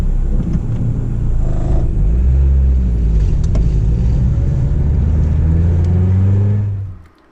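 A Mazda Miata NA drives with a loud engine hum and rumbling road noise, shifting through revs before slowing and fading out near the end.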